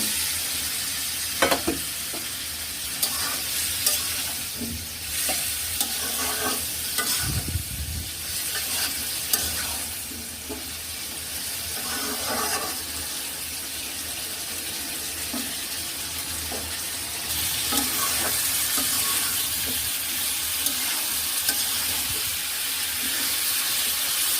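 Potatoes frying with green chilies in a pan, a continuous sizzle with scattered stirring knocks, joined by running water from a tap midway that lingers to the end, no talk.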